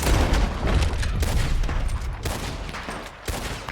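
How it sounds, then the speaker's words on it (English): Repeated gunshots fired at a bear in Red Dead Redemption 2, heavy booming reports landing in quick succession, loud and close, with a sharper shot near the end. "I'm supposed to shoot the bear 6 times."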